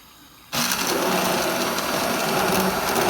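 A blender whirs up a protein shake made with protein powder, starting abruptly after a quiet half second and then running as a loud, steady high-pitched motor whine to the end.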